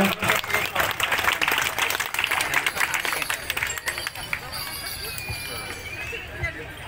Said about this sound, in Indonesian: kita berikan tepuk tangan yang paling meriah terlebih dahulu